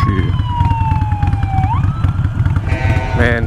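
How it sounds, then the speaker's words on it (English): Wailing siren tones sweep up and down over the steady rumble of a Harley-Davidson Iron 883 motorcycle ridden on the road, a second siren tone joining near the end, all fairly loud and close. "I hear a mixture between like sirens and like rap music"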